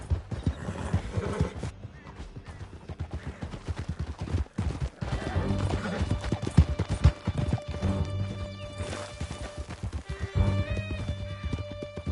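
Horses gallop hard through a canyon in Red Dead Redemption 2, with dense rhythmic hoofbeats, neighing and whinnying, and crashing bursts, loud and close throughout.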